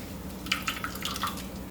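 Liquid from squeezed coconut pulp drips through a cloth into a bowl: a scattering of small, quiet drips over about two seconds, close by, with no voices.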